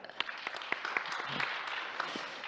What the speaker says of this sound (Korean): 큰 박수로 청해 드리도록 하겠습니다